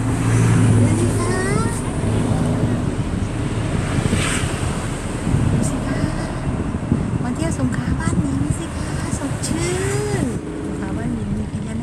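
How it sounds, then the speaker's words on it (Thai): Morning surf and wind at Laem Samila beach in Songkhla, a steady roar of waves with heavy wind buffeting the microphone and someone talking over it. "บรรยากาศแหลมสมิลาสงขายามเช้า วันอาทิตย์ค่ะเพื่อนๆ"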